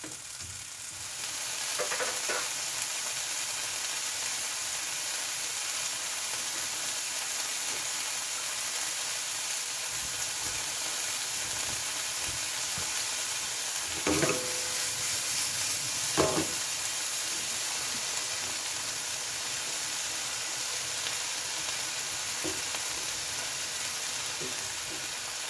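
Chopped vegetables fry in a pan and get stirred now and then, a steady soft sizzle running throughout with a few brief clattering stirs and no talking.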